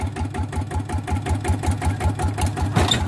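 A walking tractor on an NC frame runs close by with a steady, chugging single-cylinder beat as its clutch is let out, the rhythmic engine pulses holding even throughout.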